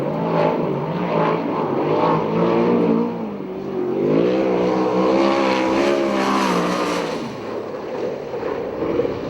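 A USAC/CRA sprint car laps Perris Speedway, its loud engine howling continuously and rising and falling in pitch as it accelerates, backs off and passes, with no voices over it.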